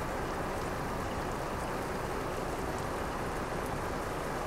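Steady rain in Euro Truck Simulator 2 hisses evenly and continuously, a dense wash of falling drops with no other sounds.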